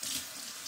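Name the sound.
rinsing a spoon under running tap water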